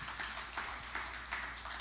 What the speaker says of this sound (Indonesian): Yang setuju beri tepuk tangan yang meriah bagi Tuhan Yesus.